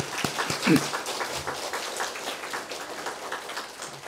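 Church congregation at a Sunday service applauding together, a dense wash of many hands clapping at moderate distance throughout, steady and sustained.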